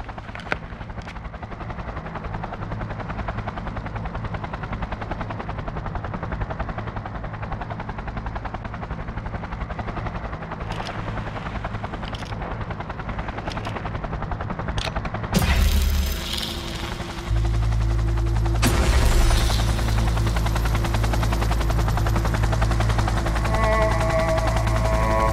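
A helicopter in Cyberpunk 2077 whirs with a steady rotor drone, then surges louder and deeper as it lifts off. Bursts of harsh noise and gunfire-like crackles come in near the end.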